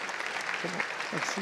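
An audience at a conference applauds, producing a steady, fairly faint clatter of clapping for a brief moment while a speaker talks over it.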